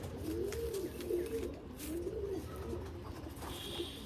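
Domestic Kaldum pigeons kept at a house coo in repeated soft, rolling calls at moderate distance, with a few brief chirps and low background noise.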